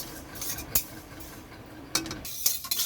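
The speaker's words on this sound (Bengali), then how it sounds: "তিলটা কিছুক্ষণ ভাজতে থাকতে হবে, একটা ভালো গন্ধ বার হবে ভাজা" Sesame seeds dry-roasting in a dry pan over low heat, stirred with a utensil that scrapes and clinks against the metal in a few sharp strokes over a soft steady hiss, close by.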